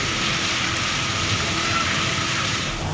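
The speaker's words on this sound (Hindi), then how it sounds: "लाहौर में खूब बारिश हुई" Heavy rain falling in Lahore, a dense, continuous hiss with no gaps, close and fairly loud.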